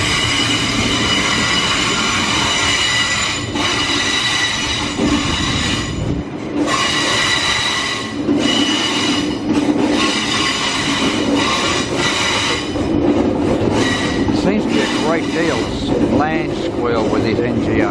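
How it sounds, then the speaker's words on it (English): A Brisbane suburban train rolls into a platform and terminates, its wheels squealing and clattering over the rails, loud and close, with a loudspeaker voice and platform noise mixed in. "It's a train terminating on platform 10."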